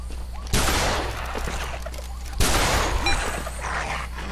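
Two loud, sharp gunshot blasts from a shotgun in the Cabela's hunting video game, about two seconds apart, with game noise and voices talking in between.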